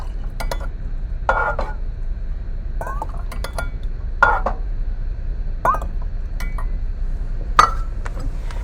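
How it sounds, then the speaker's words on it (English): Spoon stirring a borax and water solution inside a glass jar, ringing clinks against the glass repeating every second or so over a soft swirling background, close up with no voices. "I'm going to stir it around a lot to try to get as much borax to dissolve as possible."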